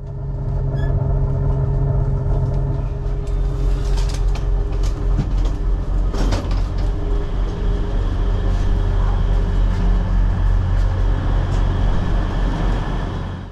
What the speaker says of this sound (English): we emerge from the gasworks tunnel to arrive into King's Cross Station bang on time at 11:10